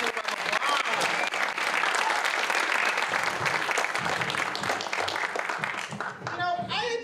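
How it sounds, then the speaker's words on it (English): A theatre audience at an adult theatre school showcase breaks into sustained applause, dense clapping from a crowd, with a few voices rising near the end. "Let's give the doctor a round of applause."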